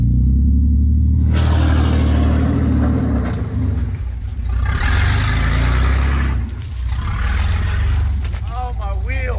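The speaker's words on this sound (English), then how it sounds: "I'm four-wheeling in a Corvette. Yeah, you're in a mud hole with a Corvette right now." A lifted Corvette's engine roars and revs loudly and continuously while four-wheeling through a mud hole, with a brief dip midway and people's voices mixed in over the rumble.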